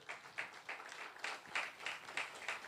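A congregation applauds during an Urdu-language church sermon, producing a fairly soft, fluttering patter of many hands with small swells in intensity throughout.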